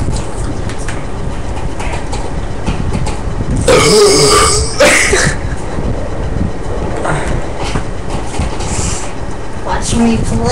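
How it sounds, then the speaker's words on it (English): A kid lets out a loud, drawn-out burp at close range, then a shorter second one, amid casual chatter and background rumbling, with a voice speaking after. "Oh, dude, I burped."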